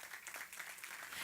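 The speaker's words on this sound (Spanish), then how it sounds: "Tiene un aplauso al Señor." A short, faint burst of congregation clapping in a church, soft and evenly textured, with no voices over it.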